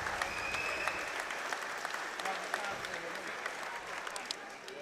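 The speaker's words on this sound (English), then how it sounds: "give it a huge round of applause for both these fighters" Crowd applauding the fighters after a C-Class Muay Thai 57kg bout, dense continuous clapping at moderate distance across the whole stretch, with a voice faintly underneath.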